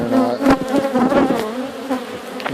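Honey bees buzz densely and close up during a backyard hive inspection of a large hive, a continuous swarm drone with individual bees flying past.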